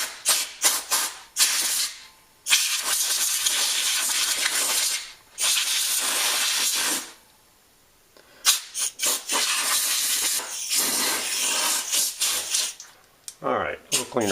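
Compressed air blasts dust out of a 1929 Victor R-32 radio in loud, close hissing bursts, some long and steady, others short and sputtering, separated by brief pauses.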